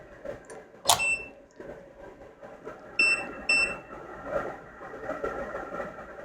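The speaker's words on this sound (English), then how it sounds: "Don't mind my soldering iron, it beeps a lot." A soldering iron at an electronics repair bench, used while reballing an iPhone 16 Pro logic board, gives a sharp beep near one second, then two short paired beeps around three seconds over low room noise.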